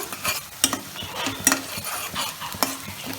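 Onions fry in a pan while a spoon scrapes and knocks through them in repeated strokes over a low background sizzle, close and clear, with no talking.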